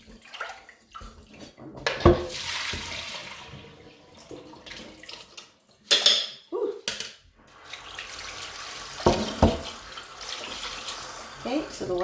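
Water splashes and trickles in irregular bursts, with swishing and light clinks as rice is rinsed in a pot, and quiet talk now and then.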